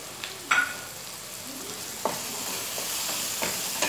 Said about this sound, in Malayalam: 1/2 ടീസ്പൂൺ ഗരം മസാല, 1/4 ടീസ്പൂൺ മഞ്ഞൾപ്പൊടി, 1 ടീസ്പൂൺ മുളക് പൊടി ചേർത്ത് കൊടുക്കുക.